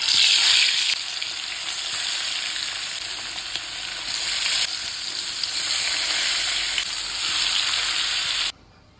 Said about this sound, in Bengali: তো এদিকে হচ্ছে মাছটা ভাজা করে নেব